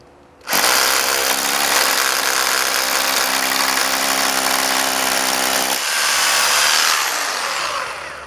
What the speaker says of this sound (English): let me go ahead and start rattling in a couple holes